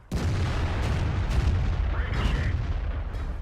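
A tank cannon fires in the World of Tanks video game, opening with a loud, close boom that rolls on into a sustained, rumbling roar.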